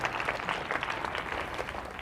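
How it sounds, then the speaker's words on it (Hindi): Audience clapping at a school stage show, a steady dense patter of many hands filling a short stretch, fairly close and moderately loud with no talk over it. "अच्छा लगा तो एक बार फिर से थोड़ी जोर से ताली बजाइए तो"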